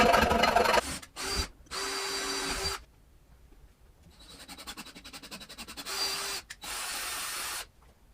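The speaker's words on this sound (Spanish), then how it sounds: "Empecé con una broca chica para hacer estas perforaciones" A power drill with a small bit bores holes in metal for a lock box on a wrought-iron gate, several loud whirring bursts separated by short pauses, with a quieter rattling stretch partway through.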